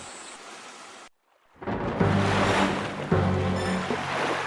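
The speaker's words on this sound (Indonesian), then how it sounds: "seketika itu angin bertiup kencang dan menggoyangkan sebagian badan kapal" Strong wind and sea waves buffet a ship in an animated scene, a broad roaring wash of wind and surf that swells after a brief gap and stays loud and steady.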